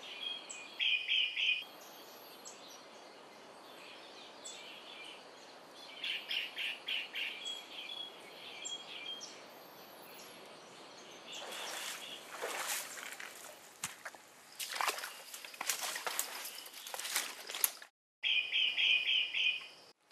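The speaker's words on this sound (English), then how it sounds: "The mangrove finch is one of the most threatened birds on Earth, with a real risk of imminent extinction." Mangrove finch calling in a mangrove forest: bright repeated chirping trills come in clusters, alone and fairly close, with a stretch of louder, broader rustling or splashing noise midway.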